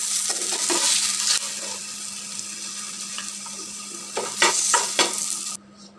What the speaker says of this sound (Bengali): এর পাশে আমি শুকনো মরিচটা ভেজে নিচ্ছি